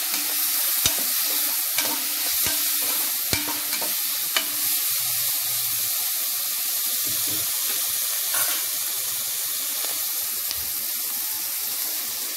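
Onions and small tomatoes sautéing in a pan, a steady sizzle with a few sharp clinks of a spoon stirring, close and alone without talk.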